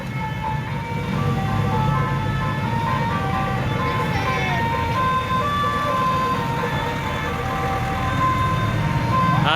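An ice cream truck in Indonesia plays a tinny, steady melody through a basuri loudspeaker horn, loud and sustained over idling engine rumble and street noise while people chat nearby.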